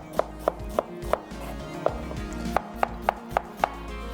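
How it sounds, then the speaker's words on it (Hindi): A knife slices onions on a cutting board for yakhni pulao, giving about a dozen crisp, close chopping knocks in a loose, uneven rhythm, with no talking. "प्याज को जो कर लेंगे स्लाइस।"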